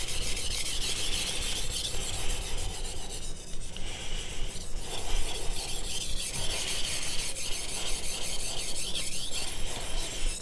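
A honyaki gyuto knife of White #2 steel, 210 mm, is drawn over a 1000 grit whetstone in steady back-and-forth rasping strokes, close and continuous, with no talking.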